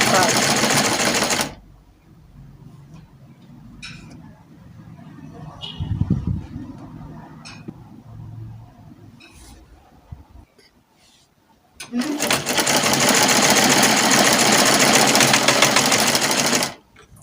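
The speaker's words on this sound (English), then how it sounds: "So as you are sewing" Sewing machine stitching fabric for an A-shape gown with inverted pleats, running in loud steady bursts at the start and end with quieter handling and low talk between.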